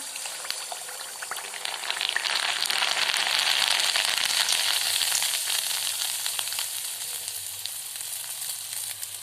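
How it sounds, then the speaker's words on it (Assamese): Rice flour pitha batter sizzles in hot mustard oil, a loud, continuous crackling fry close by that swells after the batter goes in and then eases slightly. "তেল গৰম হৈ গ'ল এতিয়া আমি পিঠাৰ বেটাৰখিনি দি দিম"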